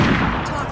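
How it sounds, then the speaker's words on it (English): Loud unsilenced gunshot in the Hitman video game, a single brief, forceful crack with a broad reverberant tail, close and dominant. "As you may have noticed, that was incredibly loud. Gunshot heard."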